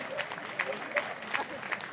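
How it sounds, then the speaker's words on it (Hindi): Audience clapping at a poetry show runs as a soft, continuous background while someone speaks over it. "तालियां कम हैं आपकी।"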